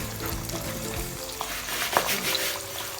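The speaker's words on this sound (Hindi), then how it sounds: "तो इसको हम तकरीबन 12 मिनट फ्राई करेंगे हल्की आंच पे।" Sesame-coated chicken drumsticks fry in hot oil over a low flame, a steady close crackle and sizzle with faint stirring and utensil noises and no talk.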